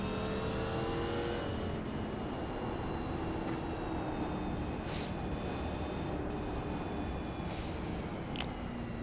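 Pack of 1987-era stock car engines roaring around Bristol short track in the iRacing sim, a steady loud drone with harmonic whine rising and falling as cars rev, alone without talk.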